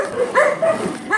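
Dogs bark fiercely at houses along a residential street, sounding short, yappy barks in quick bursts. They are close and loud, with a bit of voice in the background.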